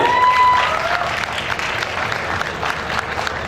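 An audience at an Urdu poetry recital during an alumni meet claps in a lively, sustained burst, loud at first and then settling into steady applause.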